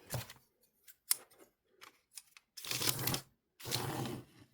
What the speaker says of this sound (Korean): 다시 펼친 뒤 접은 선 따라 잘라줍니다.